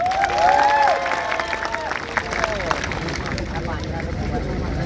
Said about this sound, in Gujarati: તમામ લોકો માટે એકવાર આપણે જોરદાર જોરથી તાળીઓ પણ લઈએ.